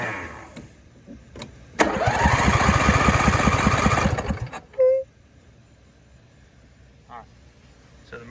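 A lawn mower engine with a fuel-delivery fault fires up with a sudden burst, chugs loudly and rhythmically for a few seconds, then cuts out, leaving a quiet background.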